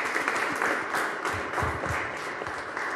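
Congregation applauding during a Mass of thanksgiving in a church, a steady, fairly soft round of clapping lasting a few seconds.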